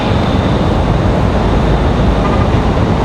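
Airbus A320-200 airliner at Raleigh-Durham International Airport, a steady broadband roar of engine and rushing air holding at constant loudness throughout, with no voices.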